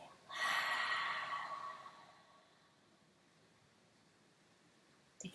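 A single long, breathy exhale during seated yoga breath work starts close and fairly loud, then fades into quiet room noise. A faint rustle follows at the end.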